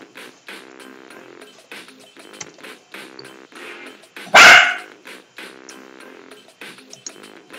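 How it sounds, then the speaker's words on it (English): Dogs bark in a short loud burst at close range, one sharp volley standing out against a quieter indoor background of faint tonal game-like sounds, no talking. "And those are the dogs. Why are they barking?"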